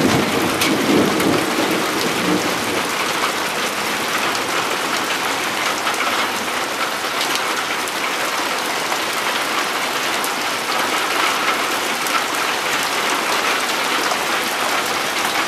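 Heavy thunderstorm with hail in Kimovsk, a dense steady roar of rain and hailstones pounding surfaces close by, with thunder rumbling underneath throughout and no voices.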